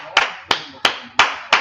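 Five sharp, evenly spaced hand claps from a group in an NFL locker room during the 2024 draft, each a loud, crisp burst with quiet gaps between them, repeated in a steady rhythm.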